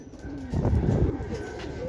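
Racing pigeons come in to land at a loft after a 135 km training flight, with a soft burst of wingbeats and cooing near at hand, set against steady outdoor background noise.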